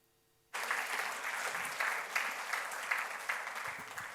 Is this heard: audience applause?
yes